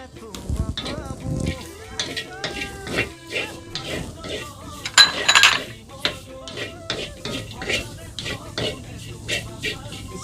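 Onions dropped into a kadai with crushed garlic for a zero-oil Assamese dish: clattering utensil knocks and scraping over a light sizzle, with a voice speaking intermittently in the background.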